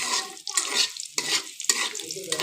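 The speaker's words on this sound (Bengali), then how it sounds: "রসুনটা একটু ভাজা ভাজা হওয়ার অপেক্ষা করছি।" Chopped garlic and two slit dried red chillies fry in hot oil in a wok, giving soft, continuous sizzling in uneven bursts with no talking.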